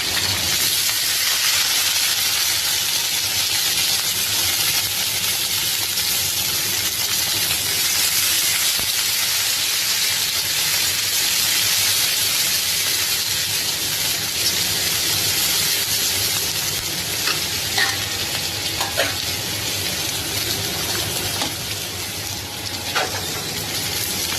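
Carrots and peas stir-fry for fried rice in a pan, giving a steady loud sizzling hiss throughout with a few faint clinks toward the end.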